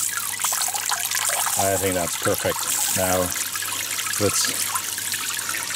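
A hose lets out a gentle, steady stream of water over cacti and other succulents, a soft continuous trickle running beneath a person talking.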